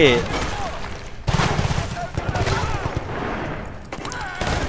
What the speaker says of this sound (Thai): ยิงกันสนั่นจอ